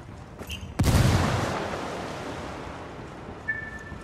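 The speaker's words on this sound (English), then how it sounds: "Grenade, watch out!" Grenade explosion in the Ghost Recon Wildlands video game at an airbase: one sudden loud blast with a long rumbling roar and noise that fades out over a few seconds, with a faint ping afterward.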